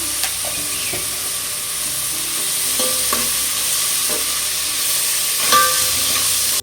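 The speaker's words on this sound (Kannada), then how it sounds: "ಈರುಳ್ಳಿ ಸ್ವಲ್ಪ ಫ್ರೈ ಆಗಿದೆ" Onions fry in a pan for a festival dish, giving a steady loud hiss of sizzling oil with occasional scraping knocks of a spoon stirring against the pan, close and continuous, with no talk.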